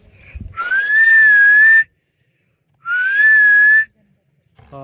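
Someone whistles to call dogs: two long, loud, steady rising whistles with a pause between, close to the listener.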